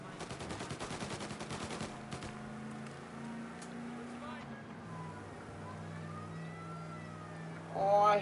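Rapid gunfire in Mafia Definitive Edition, a quick rattling burst in the first two seconds followed by a car engine hum and voices talking, fairly faint overall.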